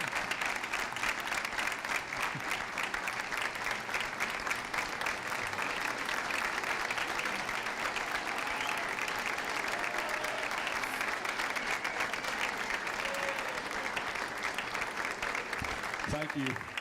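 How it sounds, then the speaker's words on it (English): A school audience gives a standing ovation at a junior high tenth-anniversary celebration: sustained, even clapping from a large crowd lasting the whole stretch, with a voice breaking in at the very end. "If we know what a standing ovation is"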